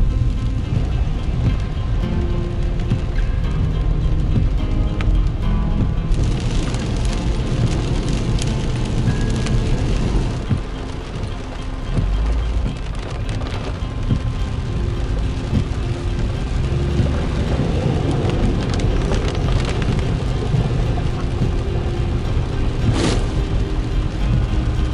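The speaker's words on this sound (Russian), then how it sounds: "продолжается сезон дождей в Крыму. На дорогах просто реки." Heavy rain pours down in Crimea during the rainy season, with roads turned to rivers. It makes a steady, dense broadband hiss that lasts throughout, with faint traffic sounds mixed in and no speech.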